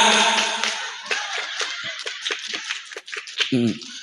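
An audience of worshippers at an Islamic sermon performs a rhythmic scout clap, a series of sharp, evenly spaced hand claps in a patterned rhythm, with a voice at the start and again near the end.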